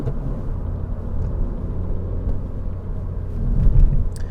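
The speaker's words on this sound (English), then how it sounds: "Went over some railroad tracks, not an issue." A 2017 Honda Civic Si with about 100,000 miles rolls over railroad tracks, its steady low road rumble and cabin drone punctuated near the end by a few soft thumps from the suspension.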